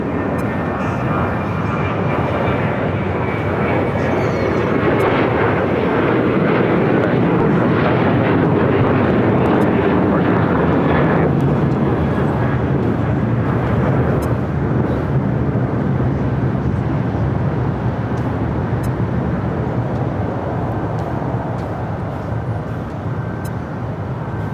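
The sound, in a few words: American Airlines Boeing 737-800 jet taking off from LAX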